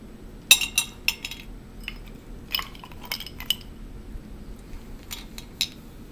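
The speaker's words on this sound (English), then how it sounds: "So now I'm going to add some ice cubes to the top of this plate." Ice cubes dropped onto a plate for a water-cycle demonstration give sharp, bright clinks in three scattered bursts, each a few quick taps, close and distinct over a low, steady background hum.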